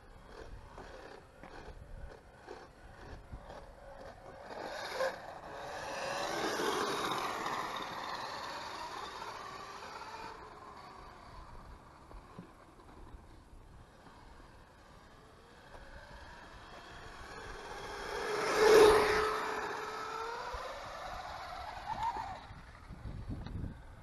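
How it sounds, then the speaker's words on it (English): A toy-grade RC car fitted with a 7200kv brushless motor, its gears winding up into a rising whine that swells twice, peaking sharply near the end, with no talk over it. "You can actually hear it. The gears just start winding up."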